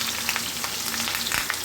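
Hilsa fish frying in hot mustard oil in a wok, a loud, close, continuous sizzle with small crackles throughout.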